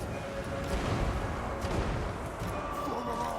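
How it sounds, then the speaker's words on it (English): Cannon artillery fire in the fantasy strategy battle game Total War: Warhammer II, dense overlapping booms and blasts layered into a continuous rumbling barrage of battle noise. "You guys can fall back while the cannon deals with these units."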